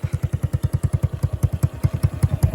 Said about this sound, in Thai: เขาเรียกว่าท่อผ่าหมวกนะครับ แต่เสียงมันก็จะ ถือว่าดังอยู่นะ